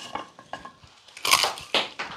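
Coarsely crushed walnuts crunch and rattle in a bowl while a spiced Christmas fruitcake with peach and crumble topping is prepared, giving several short, close, dry crackling bursts with no talk.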